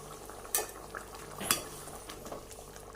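A utensil scrapes and knocks against a cooking pot while stirring brinjal gravy, two sharper clinks standing out over a quiet background hiss.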